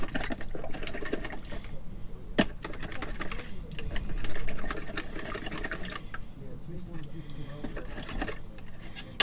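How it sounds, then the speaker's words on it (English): A kitchen tap runs in a steady, hissing stream while hands are washed during cooking, moderately loud with some clatter and a person talking over it. "let me just wash my hands"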